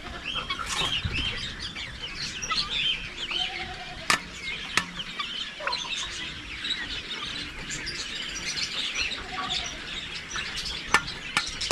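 A pet crow calls harshly in a backyard alongside other birds, with scattered sharp cries and chirps over a steady outdoor bird chatter, moderately close.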